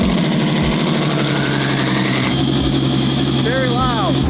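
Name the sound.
V12 car engine cold start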